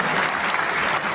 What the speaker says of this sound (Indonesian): tepuk tangan anak-anak